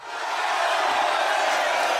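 A dense applause sound effect, a broad steady roar of crowd clapping and cheering that swells in quickly and holds loud throughout.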